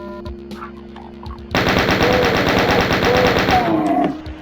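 Rapid gunfire from the Doom video game, a dense fast burst of shots starting abruptly and continuing loud and close for about two and a half seconds before stopping, with low game ambience before it.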